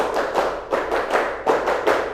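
A class claps together in the tepuk hand-clap game, sharp group claps landing in short rhythmic clusters with brief pauses between them, fairly close and without voices.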